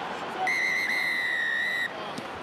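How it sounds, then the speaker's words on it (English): A rugby referee's full-time whistle at a Premiership match between Quins and Tigers: one long, steady, piercing blast of about a second and a half over crowd noise, ending cleanly. "So the full-time whistle is blown."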